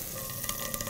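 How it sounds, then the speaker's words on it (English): Butter melting in a hot frying pan gives off a close, steady crackling sizzle with fine popping, heard alone for a brief moment. "Hear the sizzling?"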